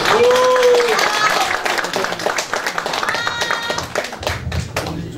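An audience applauds at the opening ceremony of a National Assembly member's election campaign office: brisk, dense clapping rising under an announcer's voice and carrying on for several seconds, then easing.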